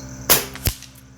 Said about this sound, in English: we'll shoot the bottom right target and see where these go